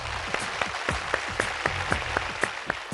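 Studio audience clapping on a Telugu game show, a soft bed of applause with sharp claps landing in a fairly even rhythm about four times a second.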